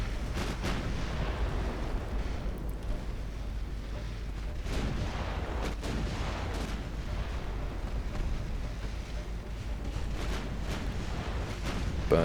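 Heavy naval guns of a warship in Ultimate Admiral Dreadnoughts boom a few times over a steady low rumble of sea and engine noise, deep and fairly distant, with no talk.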